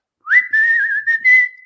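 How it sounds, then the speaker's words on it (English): A person whistles a short melodic phrase up close, clear and loud, with a rising note sliding into a held tone broken into a few quick bursts. "What song are you whistling?"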